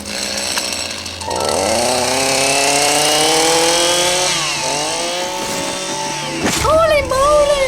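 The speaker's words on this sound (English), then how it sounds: "I hear a chainsaw!" Chainsaw running loud and close in a garden: the engine rises in pitch as it revs up, holds a steady whine, then dips and revs again near the end, with no talking over it.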